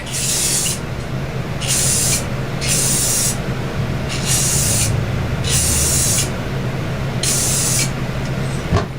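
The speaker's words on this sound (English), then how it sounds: "So I'll go ahead and give a first coat of clear, and we'll see what it" Clear finish sprayed as a first coat onto a freehand routed wooden sign, loud hissing bursts repeating at a steady pace over a constant airy background hiss, close by with no talking.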